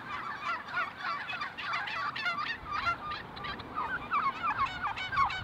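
Many turkeys gobble together in a continuous, bubbling chorus, a busy flock calling over and over at moderate distance.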